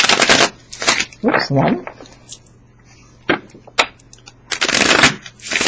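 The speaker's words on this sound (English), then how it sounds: "I'm going to go ahead and shuffle their deck." A deck of cards shuffled by hand in a series of quick riffling bursts, with pauses between them and a few louder taps as the cards are squared, close up. A person speaks briefly between shuffles.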